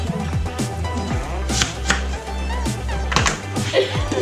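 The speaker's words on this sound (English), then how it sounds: "Cut up all the ingredients and blend it all up." Ingredients for keema being chopped on a board, a quick series of sharp knife taps and thuds in an uneven rhythm, close and fairly loud, with no talking.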